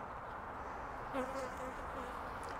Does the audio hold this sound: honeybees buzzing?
yes